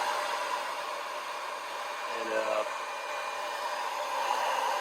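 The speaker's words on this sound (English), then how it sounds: "just use a blow dryer, just use it in hot settings and turn it on" Steady broadband blowing noise of a hair dryer running on its hot setting to melt frost in a freezer, constant and fairly loud, with a faint brief tonal murmur midway.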